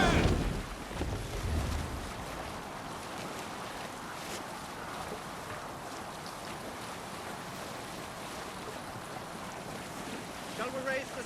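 A sailing ship moves out to sea in Assassin's Creed Valhalla: a loud gust at the start settles into a steady roar of wind and rushing waves that continues throughout.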